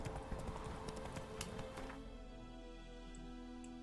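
Roach the horse in The Witcher video game trots along with quick, rhythmic clip-clop hoofbeats, fairly faint and steady, briefly busier before settling into an even pace.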